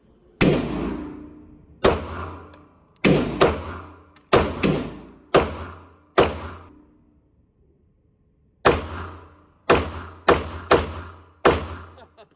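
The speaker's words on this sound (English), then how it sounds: "So I'm gonna roll in that shooting footage and then I'll catch you back after that." A Beretta 92 pistol with a compensator fires about ten loud, sharp shots in two strings. Each shot has a short decaying tail, and there is a pause between the strings.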